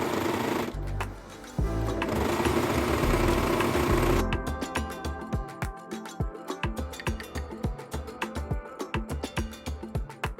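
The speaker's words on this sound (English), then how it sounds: "Finish the seams with an overlock or zigzag stitch." A sewing machine finishes the seams of wide-leg pleated pants with an overlock or zigzag stitch. A fast, steady whirring run is followed by slower, rhythmic clattering stitches, close up and with no talking.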